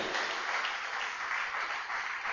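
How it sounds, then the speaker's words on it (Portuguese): A church congregation applauding steadily, a dense wash of clapping hands that holds at an even level throughout. "Dê uma salva de palmas a Deus"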